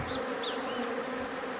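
Honey bees swarm around a nectar source, a dense continuous buzzing with individual bees whining close by now and then, loud and without speech.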